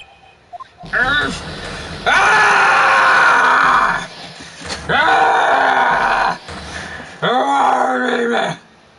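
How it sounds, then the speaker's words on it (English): Repeated loud scream-like cries in the Phoenix Wright trilogy video game, three long wailing bursts separated by short gaps, each with a pitch that swoops at its start. "That was quite a scream."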